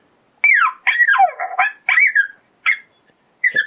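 A Primos Dogg Catcher electronic predator call plays a coyote pup sound: a run of five or six close, loud yips and whining howls in short bursts with brief gaps, no talking.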